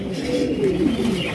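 A blue Shirtin pigeon gives a soft, low, rolling coo, a continuous throaty warble heard close and alone for a brief moment.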